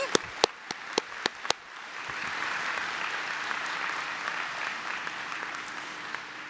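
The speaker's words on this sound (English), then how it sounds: "we can clap for our Cabrini family." Audience at a university legacy ceremony: a few loud individual claps ring out first, then a broad, sustained wash of applause from many hands fills the room.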